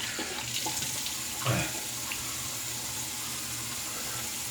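A tap runs steadily into a sink while a razor is rinsed under it, a continuous hissing stream with a brief louder splash partway through as the blade passes through the flow.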